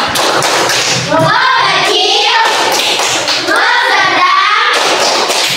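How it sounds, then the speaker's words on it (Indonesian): A classroom group claps and chants a rhythmic cheer led by a teacher, rapid hand claps and thumps in patterned bursts mixed with children's voices throughout. "Kita tepuk klop sekali lagi, jangan penuh semangat ya."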